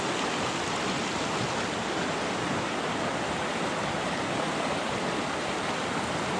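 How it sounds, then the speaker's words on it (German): Natural mountain river rushing down from the mountains along an offroad motorcycle route between Barranquilla and Santa Marta, Colombia, a steady, close, loud broadband roar of flowing water with no break throughout. "Das ist hier der natürliche Fluss, der aus den Bergen runterkommt."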